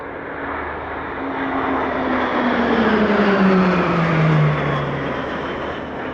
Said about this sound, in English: Running in now for a 6-ship opposition break, the Roulettes are currently the only aerobatic team in the world to perform this manoeuvre